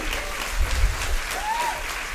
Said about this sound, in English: All our students, our speakers, a huge round of applause to them.